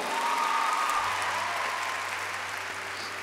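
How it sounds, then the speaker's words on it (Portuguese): A crowd claps for Lucas at an opening ceremony, a continuous, even burst of applause that holds steady and eases slightly toward the end, with a faint low hum beneath. "Uma salva de palmas para Lucas"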